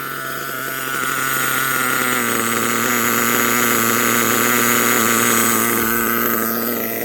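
A Kyosho USA-1 RC monster truck's small nitro engine idles steadily with a loud, continuous buzzing drone, no voices.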